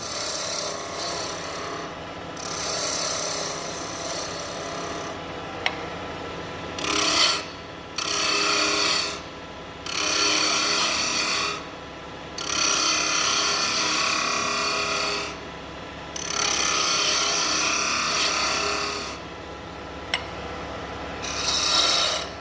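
Timber pen blank for a Beaufort Ink Zephyr pen being turned down on a lathe to the level of the bushings, a steady raspy cutting and rubbing noise in repeated bursts with brief pauses, close and fairly loud, with no talking.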